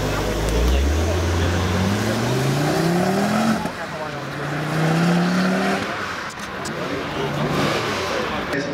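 Race cars, including a white Tesla, run at the Copenhagen Historic Grand Prix in 2009. Loud engines roar and sweep past close by with rising and falling pitch, while a commentator talks over them.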